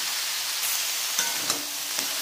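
Pre-fried cauliflower and other vegetables are stir-fried with onion and ginger paste in a pan, giving a steady loud sizzle with a few distinct scraping stirs.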